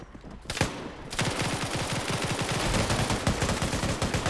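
Sustained automatic gunfire in a video game as players mag dump at a cache, a single burst up front then a long, rapid, loud stream of rounds from several guns overlapping until the end.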